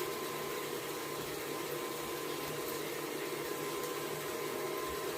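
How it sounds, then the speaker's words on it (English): Electric mixer whipping butter into a fluffy base for whole grain banana muffins: a steady, loud, even motor whir with a broad rushing hiss that holds unchanged throughout, with no voices. "as soon as our butter is whipped up and fluffy"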